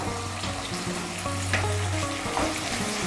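Cut potato pieces drop into spice masala already sizzling in a pan, a dense, steady frying hiss up close with a few light stirring knocks, and no voices.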